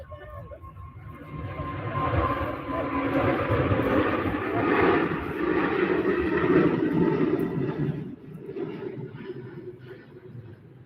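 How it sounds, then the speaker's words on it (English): A Cathay Pacific airliner departs Manchester Airport for Hong Kong, its distant jet roar swelling over several seconds and then easing off, mixed with wind and a voice talking nearby. "Cathay Pacific off to Hong Kong."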